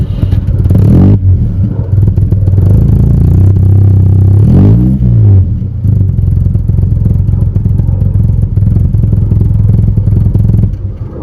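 The engine of a classic Fiat 1200 Cabriolet idles loud and close, lumpy and steady, with a couple of sharp throttle blips that rise and fall quickly, and no talking.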